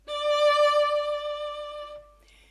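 One softer bowed string note using catch and release, entering gently and holding a smooth, even tone for nearly two seconds before stopping, with a faint touch of noise afterward and no voices.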